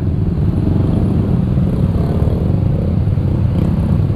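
A motorcycle engine drones steadily and loudly at close range on a long-distance holiday ride along the congested Pantura road from Bekasi to Tegal, Indonesia, with rumbling low throb and rattling road noise throughout, no talking.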